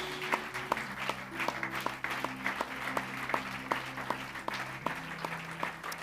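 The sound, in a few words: congregation applauding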